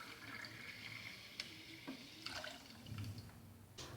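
A glass of water is poured into a bowl holding a dough mixture of vegetable oil and melted butter for Turkish cheese and minced-meat borek, giving a faint, soft splash and trickle with a few light drips.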